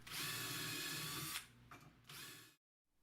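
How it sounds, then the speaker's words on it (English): A power drill bores cabinet door handle holes through a jig, whining loudly for over a second, then two shorter bursts as it is stepped in and chips are cleared, before cutting off to silence. "best results are obtained by drilling the holes in steps, clearing the chips between each step"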